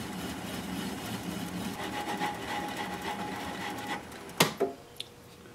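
A wood lathe spins a black walnut bowl at about 200 RPM with a low, steady motor hum and faint rhythmic whirring. Near the end come a few sharp knocks and scrapes close by.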